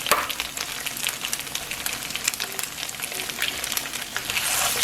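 Eggs fry in a pan with tortillas and onions, giving a close, continuous crackling sizzle dotted with small pops that stays steady throughout.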